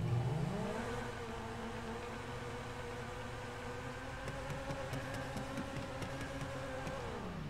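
Engine of a Ferrari supercar in the GTA video game, a steady droning hum that rises at the start and then holds at an even, moderately loud pitch with no voices over it.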